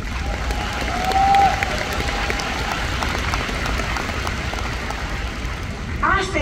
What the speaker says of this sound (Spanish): para las cuales pido un gran aplauso